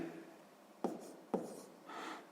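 Hand-writing numbers during a sixth-grade maths exercise: two sharp pen taps about half a second apart, then a short, soft scratch of writing, close and quiet, with no talking.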